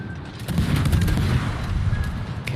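Rapid naval gunfire from a Japanese Kitakaze tier 9 destroyer in World of Warships, a dense run of loud booming shots and crackling salvos over a low rumble, close and continuous for a couple of seconds.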